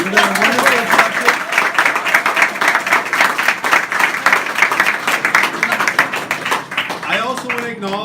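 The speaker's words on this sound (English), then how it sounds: "Can we give a round of applause for for Jane and Shelley" Audience at an NDP leadership event in Halifax applauds, a dense run of clapping lasting several seconds, with voices and chatter mixed in throughout.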